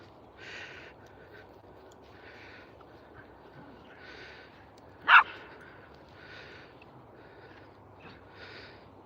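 A dog gives a run of short, faint barks at a steady interval, rather distant, with one sharper louder sound midway and quiet background between barks.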